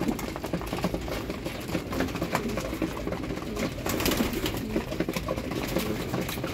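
A young racing pigeon from the North, a loft's Aparri race bird, gives soft repeated coos against a busy loft background of rustling and other birds, steady throughout without any talk.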